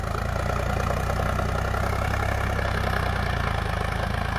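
A Sonalika DI 745 tractor diesel engine idles nearby in a steady, even, throbbing chug that holds unchanged throughout.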